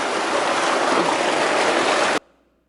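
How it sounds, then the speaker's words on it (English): Powerful river water rushes loudly past during a boat crossing, a dense, steady roar that cuts off abruptly, leaving near silence. "Now we are going into the middle of this very powerful river."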